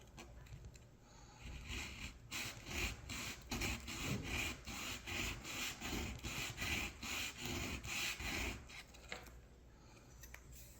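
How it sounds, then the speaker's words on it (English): Steady back-and-forth rasping of sandpaper on a wooden model boat transom, a rhythmic series of strokes continuing for several seconds, close and fairly quiet. "I'm just going to sand and angle this the same way that we did our lower transom."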